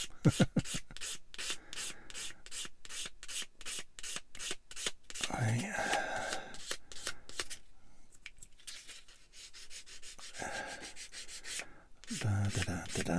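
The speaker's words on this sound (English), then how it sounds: "Let the sander do the work." A sander rubs over small plastic parts from a 1/144 Bandai Star Wars AT-AT model kit, making rhythmic scratchy strokes, fast at first and then in longer passes with short pauses, close up and fairly quiet.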